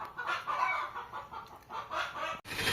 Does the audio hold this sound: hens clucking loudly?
yes